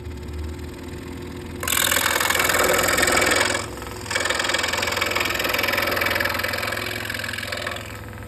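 A scroll saw cutting material runs with a loud, steady buzzing drone. It briefly drops lower and then resumes before easing off toward the end, close and with no talk.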